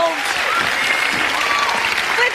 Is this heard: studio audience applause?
yes